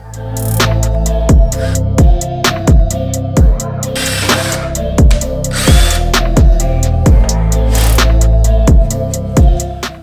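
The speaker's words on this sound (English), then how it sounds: "Starting with a small drill bit, just so I can actually make the hole first" A loud power drill with a small bit runs in repeated bursts into a car bumper, its motor whining and straining in a steady rhythm as it bites into the material.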